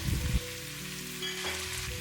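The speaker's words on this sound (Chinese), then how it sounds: "接下來把煎好的豆腐直接倒在鍋裡，炒好的雞蛋也倒下去，" Fried tofu and scrambled egg with garlic are tipped into an oiled wok and sizzle softly for a moment, with a brief clatter at the start.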